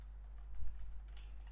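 Keys clatter on a computer keyboard while a client and supplier form is built, producing soft, quick, irregular taps at close range with no talking.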